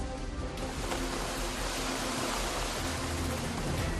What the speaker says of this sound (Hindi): यहाँ पानी की आवाज दिल में खौफ पैदा कर रही है।